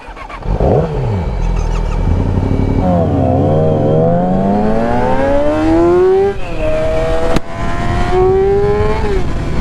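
A Yamaha R7 motorcycle engine revs hard and climbs through the gears, pitch rising and dropping with each shift, loud and close throughout.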